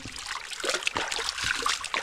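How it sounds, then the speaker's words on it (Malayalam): A cold mountain stream at Qurai, Oman, trickles and splashes nearby in a steady broad wash of water with small bright droplets. "ഇതുണ്ടോ നല്ല വെള്ളം കേട്ടോ നല്ല തണുപ്പുണ്ട്"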